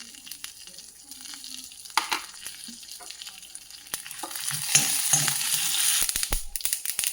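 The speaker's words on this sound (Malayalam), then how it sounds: "എണ്ണ ഒഴിച്ചു, ഉഴുന്നലക ഇട്ടു, കടുക്, വറ്റൽമുളക്, കറിവേപ്പില" Urad dal, mustard seeds, dried chillies and curry leaves fry in hot oil for an onion chutney, a soft sizzle that swells into louder crackling and popping with occasional spoon scrapes against the pan.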